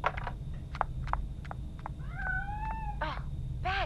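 A house cat lets out several short meows and a pair of longer, drawn-out wavering meows in a quiet indoor room, close by and fairly loud, with no talking.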